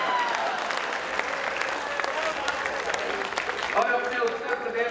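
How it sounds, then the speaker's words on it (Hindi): An audience at a Hindi comedy poetry gathering, the Ghongha Basant Sammelan, breaks into sustained applause, dense rapid clapping throughout with a few sharper claps standing out near the front. "तालियों का शोर और बढ़े"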